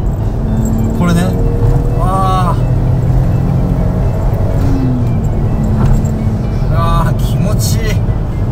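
A Nissan wagon fitted with a tuned RB engine and a modest aftermarket muffler gives a steady, close exhaust drone that stays constant throughout, while two people talk over it.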